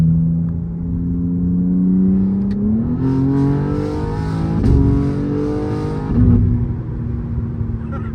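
BMW M3 G80 xDrive fitted with a downpipe and engine tune accelerates through its gears. The engine note climbs, drops sharply at each of two or three quick upshifts, then climbs again, loud and close.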